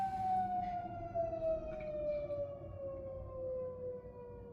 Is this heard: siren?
yes